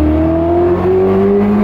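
A Ferrari 488 Spider engine revs up, a loud, steady, rising drone close by.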